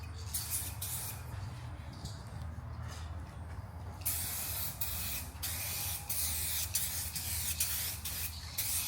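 An aerosol spray can of paint laying down a light wet coat outdoors in a driveway, with repeated hissing bursts of spray, some short and some sustained, close and moderately loud.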